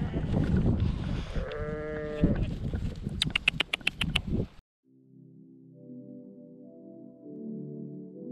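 A young lamb gives one bleat nearby amid rustling and a burst of clicking, then everything cuts to soft, steady tones.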